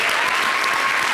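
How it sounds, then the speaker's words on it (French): Loud, dense studio audience applause on a French-language television show, a continuous wash of clapping throughout the short moment. "Vous n'avez rien payé pour venir à l'ICI, on dit applaudissez."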